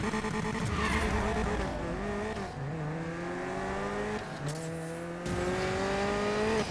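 A Mercedes-AMG A45 race build in the video game Need for Speed Payback revs hard and drones steadily like a rally car, pitch rising and falling as it shifts gears, with brief tire squeals in between.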